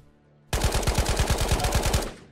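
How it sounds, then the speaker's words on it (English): Rapid automatic gunfire in the VR shooter Ghosts of Tabor, a loud sustained burst of about fifteen evenly spaced shots starting abruptly and lasting under two seconds, with no talk. "There's like a bunch of gunshots going on."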